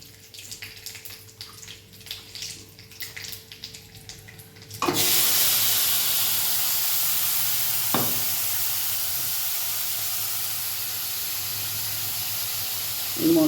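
Water poured into a pan of frying ground spice paste with oil and nigella seeds bursts into a loud, continuous hiss and sizzle that starts abruptly and holds steady, close up, after a quieter stretch of low kitchen noise.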